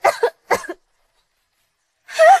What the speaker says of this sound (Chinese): 这声剧烈的咳嗽在静谧的室内响起了